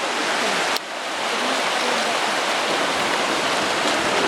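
River water rushing loudly and steadily at a river crossing on the road to Toro Toro, a dense close wash of flowing water with no voices.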